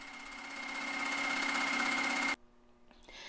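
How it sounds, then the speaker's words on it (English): A sewing machine stitches fabric for a McCall's 7543 garment in one continuous, steady whirring run that stops abruptly, leaving a faint hum and a few small clicks. "take it to the sewing machine and sew it down."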